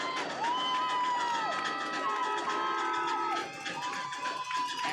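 A crowd cheers and shouts at an 8U youth football championship game, with children's voices and high whistle-like calls over a steady roar of spectators, loud and continuous with a slight dip near the end.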